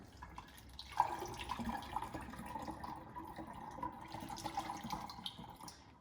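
Beet kvass poured through a strainer, a continuous soft trickling and splashing of liquid with small drips, quiet and steady for several seconds without speech.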